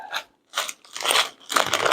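Dry ramen noodles crunch in several short loud bursts, crackly snaps separated by brief pauses, close and with no talk.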